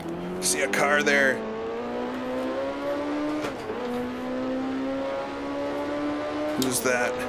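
Simulated 1960s-era Grand Prix race car engine in an online session of the racing game Grand Prix Legends, a steady sustained drone that rises and shifts pitch with short bursts of louder revving at the start and end.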